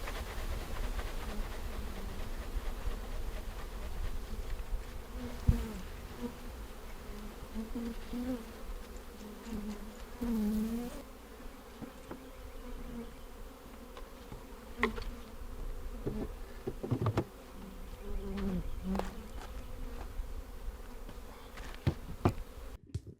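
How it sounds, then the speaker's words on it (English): A swarm of honeybees just shaken into a hive buzzes continuously up close, a wavering drone with scattered thumps and knocks, no voices. "we're going to take the bees and we're going to shake the piss out of them"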